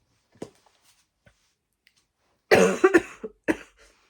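After a few faint clicks, a loud fit of coughing bursts out close by, several quick hacking coughs followed by one final cough.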